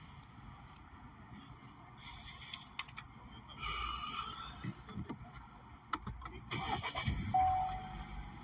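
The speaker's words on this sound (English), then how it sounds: "Let's get the car started." A car engine cranks and catches, then rises into a low, steady running rumble, heard faintly from close by with no talk.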